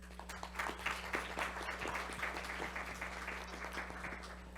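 Audience applause at a university panel discussion, a faint, steady patter of clapping from a modest crowd over a low electrical hum.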